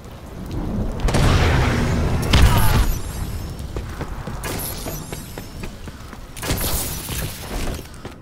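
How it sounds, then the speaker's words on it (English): Missile strikes explode in Call of Duty: Advanced Warfare in a series of heavy rumbling booms with crackling debris, three big blasts spaced a few seconds apart over a constant noisy battlefield backdrop. "Friendly missile strikes inbound."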